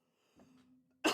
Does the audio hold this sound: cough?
yes